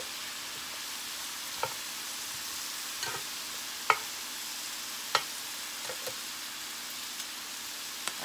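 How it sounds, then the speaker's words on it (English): Ribeye steaks, three quarter-inch cuts, sizzle steadily on an Oster electric grill, a constant close hiss broken by a few sharp pops and crackles, with no voices. "And this is all cooked on my Oster grill."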